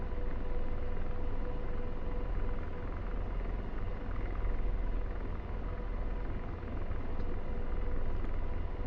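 An Apache helicopter taxis in a flight simulator game, its engine and rotor making a loud, steady, unbroken rumbling drone throughout.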